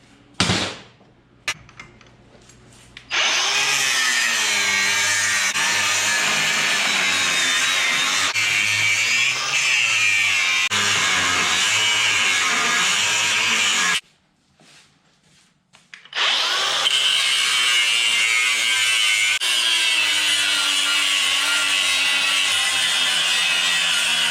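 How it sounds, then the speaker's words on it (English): A loud, steady abrasive grinding of metal with a sanding disc runs for long stretches, broken by a short pause before it resumes just as harsh and continuous. "what I used to grind this stuff down is a sanding disc"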